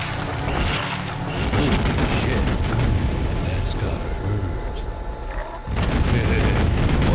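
Loud booms and rattling blasts from explosions in Duke Nukem 3D fill the scene in dense, overlapping bursts, with a voice underneath.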